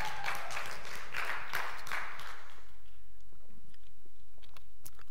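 Applause from an audience, a dense patter of many hands clapping that fades out after a couple of seconds, leaving scattered faint clicks and quiet room noise.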